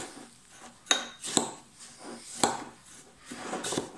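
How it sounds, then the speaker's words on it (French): Seeds and melted butter for a savoury cheesecake base stirred in a bowl, with a few sharp utensil clinks and scrapes against the bowl in an irregular rhythm, close and fairly quiet, with no voices. "Et je mélange le tout."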